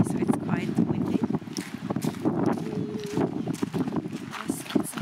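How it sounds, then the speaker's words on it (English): Steady wind in Lofoten buffeting the microphone outdoors, a constant rushing roar with gusty bursts throughout. "Okay, so it's quite windy."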